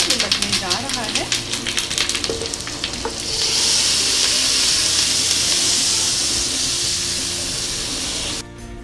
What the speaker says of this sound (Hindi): ये हमारी कड़ी को तड़का जो है वो लगने जा रहा है।